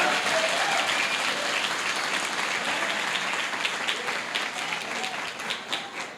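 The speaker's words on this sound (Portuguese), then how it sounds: "Aplauda o Senhor." A church congregation applauds loudly and continuously, a dense wash of many clapping hands that stays full throughout and eases slightly toward the end.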